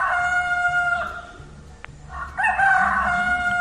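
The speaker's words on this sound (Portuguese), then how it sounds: "É o galo." A rooster crows loudly and close by, two long cock-a-doodle-doo calls with a short pause between them, set against a faint low background rumble.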